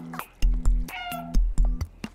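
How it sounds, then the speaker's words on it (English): Several short cat meows from the video game Stray, sounding in a quick irregular series with thumping low impacts between them, fairly close and clear, with no talk. "Meow."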